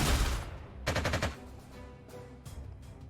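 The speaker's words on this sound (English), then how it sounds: "fighter, first of all, is going to go and shoot down one of their fighters" Aircraft machine-gun fire in the wartime strategy game Panzer Corps 2 as a fighter downs an enemy fighter: a loud opening burst, a second rapid rattling volley, then fainter scattered shots.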